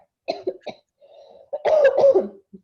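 A person coughs several times in short bursts, then gives a longer, harsher throat-clearing cough, close and fairly quiet in a quiet room.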